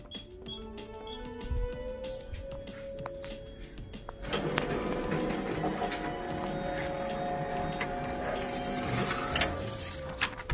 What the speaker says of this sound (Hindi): अभी दूसरा प्रिंट निकालते हैं।